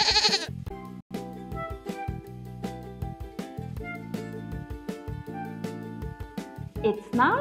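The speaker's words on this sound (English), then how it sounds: "Goat." A goat bleats loudly and close, at the start and again at the end, separated by a bouncy children's melody with rhythmic chords.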